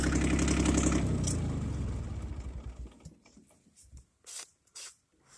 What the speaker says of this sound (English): Actually, I think I'll park the tractor here for now. I'll just go leave it idle.